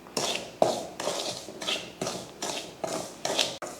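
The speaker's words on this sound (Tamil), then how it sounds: "இப்போ இதை வறுத்து எடுத்துக்கலாம்." Semolina and ragi flour roast in a pan, stirred with a utensil. About seven regular scraping strokes sweep across the pan at roughly half-second intervals, close and moderately loud, with no talking.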